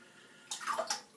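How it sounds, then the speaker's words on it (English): Warm water pours into a shaving scuttle in a short burst of splashing and trickling that rises suddenly and then settles, heard up close in a quiet bathroom. "just run a little bit more warm water into my scuttle"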